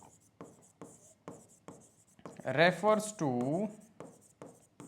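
A lecturer writes on a board during a Class 11 biology lesson on breathing and gas exchange, making quick, rhythmic scratching strokes close by, with a short stretch of speech in the middle.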